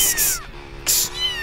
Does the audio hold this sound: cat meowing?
yes